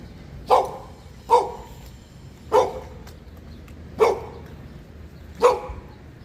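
A dog barks five times in an outdoor neighborhood, single sharp barks spaced about a second apart at moderate distance over faint background noise.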